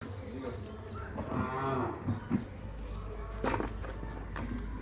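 Punganur miniature cattle and calves moo in a farm setting, one long low moo building through the middle with shorter calls after, fairly near, over faint insect buzz and light background noise.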